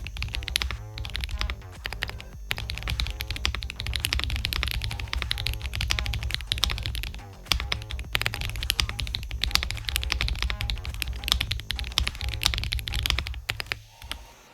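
Steady typing on a Tecware Spectre 75 tactile mechanical keyboard, dense rapid keystrokes clacking close and loud throughout with brief pauses, no voices.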